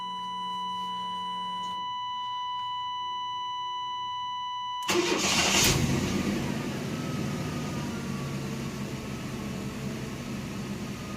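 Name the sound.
1993 Chevrolet S10 4.3 engine starting and running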